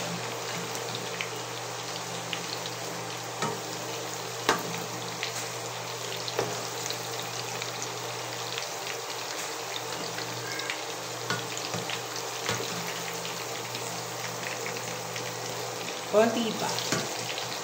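Tofu fries in a wok with a continuous close sizzle and scattered sharp pops over a low steady hum; a voice speaks briefly.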